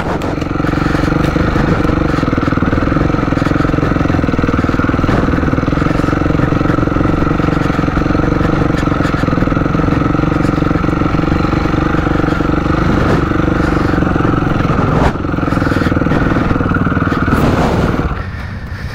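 A scooter engine drones loud and close as it labors up a steep hill, holding a strained, steady pitch before easing off near the end.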